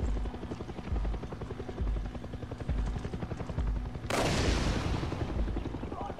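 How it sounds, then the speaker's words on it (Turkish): Helicopter in the video game Far Cry 6, a steady close rotor thump pulsing throughout, joined partway by a sharp burst of gunfire or explosion noise that keeps the mix dense and loud. "Helikopter görmedi beni."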